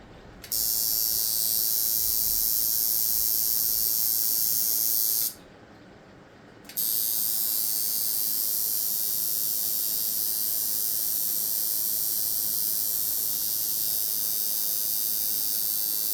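A cheap liner tattoo machine runs with a steady, high-pitched electric buzz, cutting out briefly for about a second before resuming unchanged and fairly quiet.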